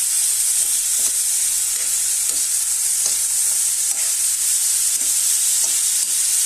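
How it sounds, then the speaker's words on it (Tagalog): Chicken feet fry with pepper and soy sauce as they're stirred in a pan, giving a loud continuous sizzle broken by regular scraping strokes of the spoon about every half second. "Ilagay na po natin ang ating paminta at ang ating toyo. Then, ating pong haluin."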